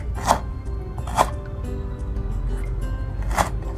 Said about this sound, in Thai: บุบๆที่หัวตะไคร้ก่อนนะคะ แล้วเราก็จะซอย เป็นชิ้นๆแบบนี้ค่ะ